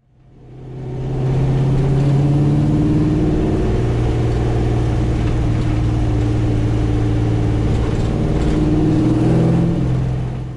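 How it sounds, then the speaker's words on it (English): A deep LS1 V8 engine in a 1982-1992 Camaro/Firebird rumbles steadily as the car accelerates in 4th gear around 40 mph at quarter throttle, the low throbbing exhaust note growing and holding loud and close for several seconds. "this LS1 in 4th gear at around 40 miles an hour at 1/4 throttle"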